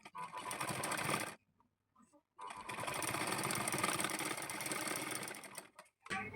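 A sewing machine stitches cloth for a double-layer homemade doll. It makes a loud, continuous close-up whir, pauses briefly, then runs again for a long stretch and finishes with a short final burst.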